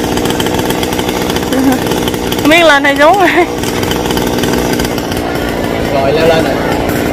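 A chainsaw cuts long branches of a rain tree, its engine droning steadily and briefly revving higher partway through, while people talk loudly over it.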